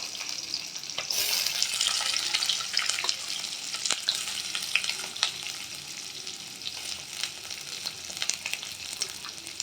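Onions, capsicum, garlic and other vegetables sizzle steadily in hot oil in a pan, with bright frying hiss throughout and occasional stirring scrapes up close.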